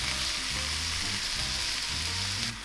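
Onions frying in butter in a pan make a loud, continuous sizzle with a soft crackle, steady throughout, with a low hum underneath and no talking.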